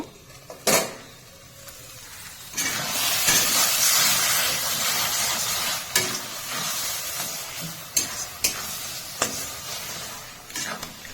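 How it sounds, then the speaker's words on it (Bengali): Mashed eggplant for a bharta sautés with spices in a pan: a steady, fairly loud sizzle and hiss starts a couple of seconds in, with sharp clicks of a spatula scraping and stirring at intervals. "মশলার সাথে ভালোভাবে কষিয়ে নিয়েছি"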